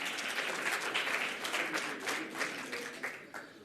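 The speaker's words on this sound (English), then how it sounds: "Another round of applause for them, please." An audience at the closing ceremony of a hydrogen summit gives a round of applause: dense, continuous clapping from a large crowd, loud and steady, tapering slightly near the end.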